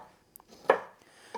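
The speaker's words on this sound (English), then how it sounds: "So I will cut that in half and take the little seeds out." A knife cuts through a habanero pepper on a board, a few light separate taps and one firmer chop, close and quiet with near silence between.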